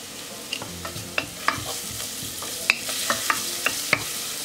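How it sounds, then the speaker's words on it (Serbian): Finely grated carrot fries in a little oil in a pan, a soft steady sizzle broken by scattered clicks and scrapes of stirring. "Malo ulja propržimo prvo rendenu šargarepu."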